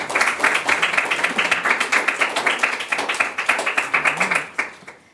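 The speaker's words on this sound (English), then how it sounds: "So give yourselves a round of applause for what you're supporting tonight." Audience at an evening adoptee roundtable event clapping, with crisp, distinct hand claps in a fairly quick, even rhythm, close and moderately loud, tapering off at the end.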